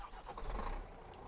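A truck engine starts up in Farming Simulator 19, a brief turnover rising into a low rumbling idle that settles and holds steady.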